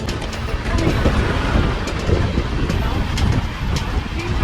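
Vikramasimhapuri Amaravati Intercity Express train running on the rails past Ongole, a loud steady rumble mixed with wind rush and faint rhythmic clatter throughout.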